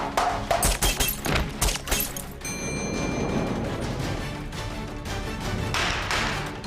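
Gunshots fired on a film set for a movie production: a quick series of sharp bangs in the first two seconds, then a sustained crashing, rumbling wash of noise that carries through to the end.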